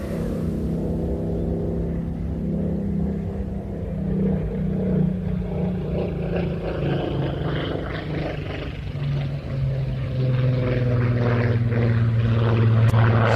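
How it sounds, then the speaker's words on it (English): A loud Rolls-Royce Griffon piston engine in a Spitfire Mark 19 drones steadily and nearby at an air show, its deep rumbling tone slowly shifting in pitch as it runs on without pause. "I do like the sound of a Griffon engine as well"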